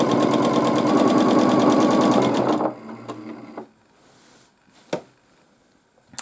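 Sewing machine stitching a baby quilt, a fast loud regular needle rattle running for about two and a half seconds, then stopping and leaving faint handling clicks and a few soft knocks.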